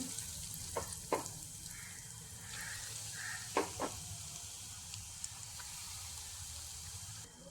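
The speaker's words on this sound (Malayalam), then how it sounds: "4 മുട്ടയും തിളച്ച എണ്ണയിലേക്ക് ഇട്ട് കൊടുത്തു" Eggs sizzle steadily in hot oil, a constant crackling hiss with a few soft clinks and taps of a utensil.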